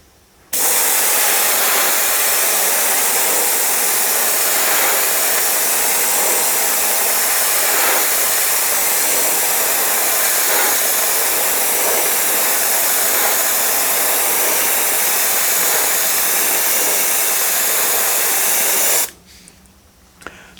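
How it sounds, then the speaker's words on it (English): An airbrush sprays paint onto cap plastic, a loud, steady close hiss that runs unbroken for about eighteen seconds before cutting off, with no talk. "So that's one layer done with the airbrush"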